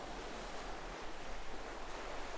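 Steady, broad rush of ocean surf washing continuously, with a low rumble underneath and no voices.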